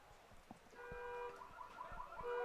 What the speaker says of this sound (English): Set the car alarm off.